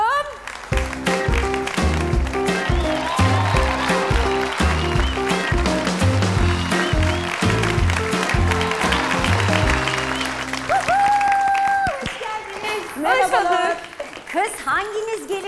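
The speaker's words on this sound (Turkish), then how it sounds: "O zaman alkışlarla yeni gelin ve kayınvalideyi davet ediyorum" A television cooking competition studio audience claps in a rhythmic, even beat over loud upbeat show music, welcoming a bride and mother-in-law contestant pair before the music winds down and a host speaks.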